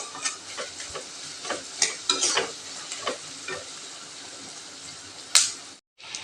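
Onions sizzling as they are stirred in a frying pan, with a steady hiss broken by scraping utensil strokes and a brief sharp clatter near the end.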